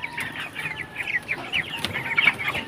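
Chickens on a farm clucking repeatedly at close range, a busy run of short overlapping clucks and squawks with no talking.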